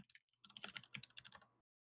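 Several people hammer hard on computer keyboards, a fast, dense burst of loud key clatter for about a second and a half before it stops abruptly.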